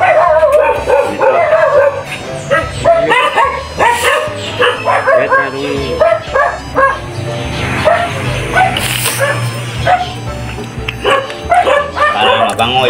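A dog yips and whimpers during a bath among splashing and rustling, with a person talking throughout and short barks scattered across the clip.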